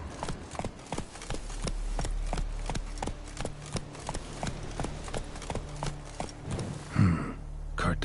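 Roach, a horse in The Witcher 3, gallops in a steady, even clip-clop of hoofbeats, close and clear, with a brief thump and breathy noise near the end.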